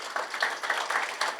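A seated crowd at a district office staff meeting claps to congratulate award winners. The applause is brief and fairly soft, with scattered hand claps that pulse unevenly for just over a second.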